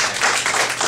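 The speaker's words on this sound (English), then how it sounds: "let's go ahead and have a round of applause for both our players" A festival crowd watching a karuta demonstration match claps for both players, a brief burst of dense applause from many hands.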